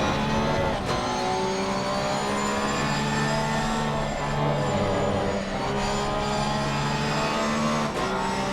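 Race cars, among them a Ferrari and a Porsche GT3 R, accelerate down the straight at Barcelona in Assetto Corsa Competizione, with a continuous loud layered engine drone that holds steady throughout and swells briefly at a few points.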